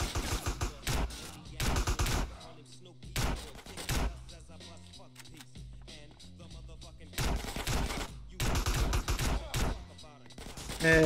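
Shotgun fire in the video game GTA San Andreas, several loud bursts of repeated blasts separated by quieter gaps, with game music and effects between them.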